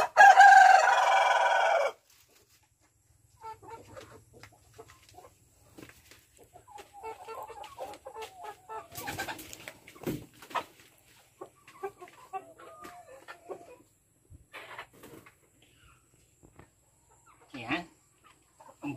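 Free-range heritage chickens on a farm cluck and a rooster crows, scattered bird calls near and far, with someone talking over them at times.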